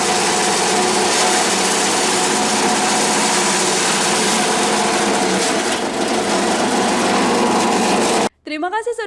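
An engine-driven shredder machine built by mechanical engineering students runs at a loud, steady high-pitched drone, then cuts out abruptly near the end as a brief voice follows.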